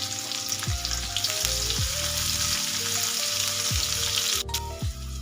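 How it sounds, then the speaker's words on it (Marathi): A medium-sized chopped onion sautéing in hot oil for a quick masala Maggi, steady loud sizzle throughout with occasional stirring scrapes, background music-like tonal lines underneath, no talk. "मी एक कांदा कट करून घेतलेला आहे हा पण आपल्याला त्याच्यामध्येच टाकून छान परतून घ्यायचा आहे"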